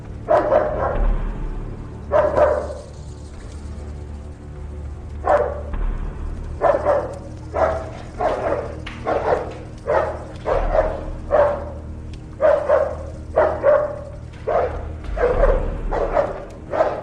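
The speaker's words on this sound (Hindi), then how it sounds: "कुत्ता भी इनके पास।" A dog barks in a movie scene, a steady series of sharp, fairly loud barks repeating every second or so over a low background hum, with no talking.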